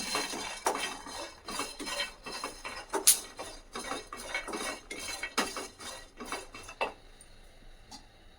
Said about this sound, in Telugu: ఇప్పుడు కొంచెం జీడిపప్పు, వీటిని కాస్త వేగనిద్దాం.